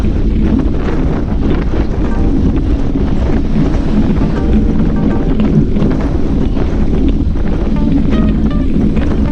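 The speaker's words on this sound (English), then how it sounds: "You can barely hear me because the wind, we're turning into the south wind" Heavy wind buffets the microphone continuously on a group road bike ride heading into a south wind, a loud, rough roar that never lets up.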